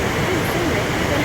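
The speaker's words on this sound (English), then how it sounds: "we can hear the waterfall" A waterfall on a mountain pass produces a steady, even roar of rushing water, broad and unbroken throughout with no distinct splashes.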